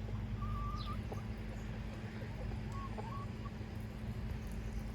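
Big Buff Brahma hens cluck softly at a backyard fence in the evening, with a few short, sparse calls rising over a steady low background hum, faint and fairly distant.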